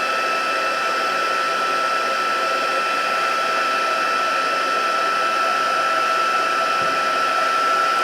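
Heat tool blowing steadily to melt gold embossing powder on a birthday card, a loud, even fan whine that holds constant throughout with no talk.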